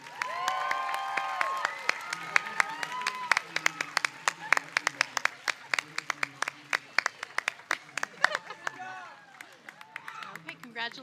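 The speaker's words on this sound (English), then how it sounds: "let's please give them a big round of applause" An audience at a medical school physician assistant program commencement ceremony claps and cheers, with sharp irregular claps and scattered whoops rising over continuing voices and crowd chatter.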